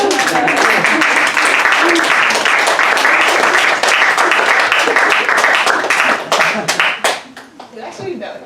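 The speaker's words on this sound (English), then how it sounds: "Y'all better clap for this person." Audience applause and clapping at a poetry salon reading, a dense, steady crowd clap filling most of the stretch before thinning out and tapering near the end.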